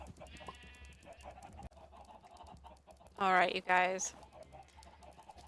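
Minecraft chickens clucking in a survival game, a quick pair of loud squawky bursts near the middle of the clip, with a voice talking before them.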